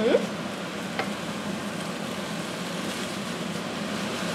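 Yakisoba noodles and vegetables sizzling steadily in a frying pan while being stirred, with a brief clatter at the start and a continuous close frying hiss.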